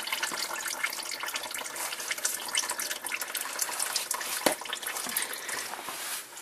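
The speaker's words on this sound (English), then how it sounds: "So just loosen it enough to where it starts to drain out, and just let the filter drain." Engine oil draining from a loosened oil filter during a home oil change makes a continuous close trickle and splash, steady throughout with a few small drips and knocks, and no voices.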